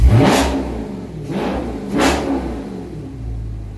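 A 2018 Dodge Charger Scat Pack with a fiber hood revs hard twice in quick succession, each loud engine surge rising and falling back to a steady rumble, close to the microphone with no talking.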